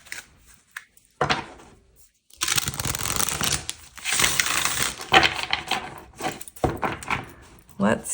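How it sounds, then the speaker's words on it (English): A deck of tarot cards being shuffled nearby: bursts of crisp riffling and papery slaps, then a longer stretch of continuous shuffling with brief pauses between. "I'm just going to give it a quick shuffle"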